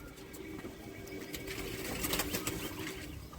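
Madrasi pigeons coo softly inside a loft, low murmuring calls beneath a faint hum, with brief rustles and flutters of wings nearby.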